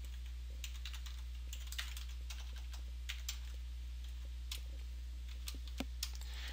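Soft, scattered keystrokes on a computer keyboard while HTML code is entered, irregular light clicks over a steady low electrical hum, fairly quiet and close with no talking.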